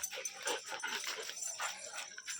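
Dog whimpering and yipping close by in a series of short, high, whiny cries that repeat throughout.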